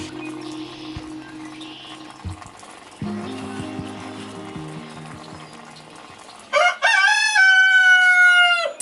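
On a homestead, a rooster crows loudly near the end, a long harmonic call, after a stretch of clucking and low hen-like murmuring from the chicken flock.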